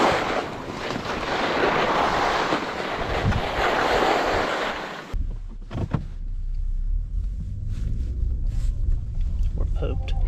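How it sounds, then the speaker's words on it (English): Strong wind in Durango, Colorado roars loudly against the microphone for several seconds, then suddenly drops away, leaving quieter gusts and a few faint voices. "It's so windy."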